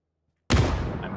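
A grenade explodes in the PUBG video game: a sudden loud boom after a short silence, then a rumbling decay.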